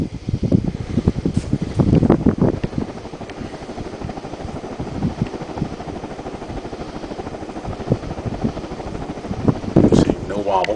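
A bright brass Hunter Original ceiling fan runs on high speed, throwing out a steady rhythmic whooshing hum with a beating throb. Someone talks over it near the start and again near the end.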